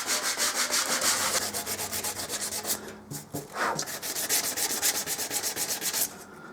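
Hand sanding a hard, dried heavy coat of paint on welded metal, a continuous close, gritty rasp with rhythmic back-and-forth strokes and a brief pause midway.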